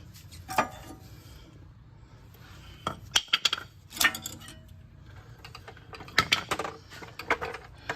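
Metal brake pads are pried out of a 2019 Volkswagen Atlas caliper bracket, giving sharp clinks, scrapes and rattles in irregular bursts, close up, with quiet gaps between them.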